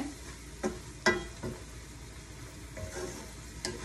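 Food frying in a small amount of oil in a home kitchen, a faint, steady sizzle broken by a few soft stirring clinks and scrapes.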